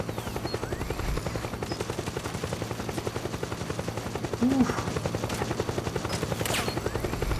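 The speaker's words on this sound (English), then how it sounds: "it's shooting at rebel soldiers" Gunfire from the stealth-action game Metal Gear Solid 4 as a machine aims at rebel soldiers: steady, rapid mechanical chopping and rattling shots running continuously through the stretch, with a dense, busy battlefield texture throughout.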